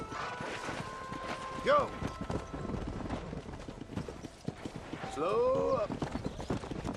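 Horses galloping in Red Dead Redemption, a fast clip-clop of hooves running under a rider's shouted commands, with a couple of whinnies breaking through.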